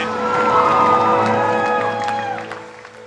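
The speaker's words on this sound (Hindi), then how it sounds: "भरपूर तालियां होनी चाहिए।" Studio audience at a Pakistani TV game show applauding and cheering, loud and full at first, with tonal music running underneath, then tapering off toward the end.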